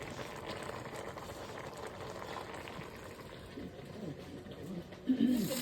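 Pot of poke weed with half an onion at a steady rolling boil on the stove, a continuous soft bubbling hiss that carries on throughout, with a slightly louder burst of bubbling near the end.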